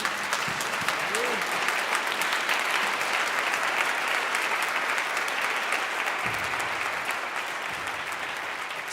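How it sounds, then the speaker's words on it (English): Spontaneous applause from choir singers on stage at Orchestra Hall in downtown Minneapolis, a steady, dense wash of clapping lasting throughout, with a brief sung or spoken voice near the start. "Spontaneous applause from the singers on the stage at Orchestra Hall in downtown Minneapolis for Joe Davison Renaissance."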